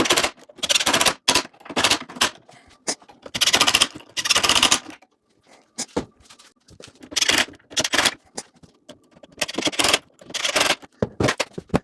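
A poplar face frame is nailed onto a bench carcass, with rapid clusters of sharp, loud snapping bangs separated by brief quiet gaps, close by and with no speech.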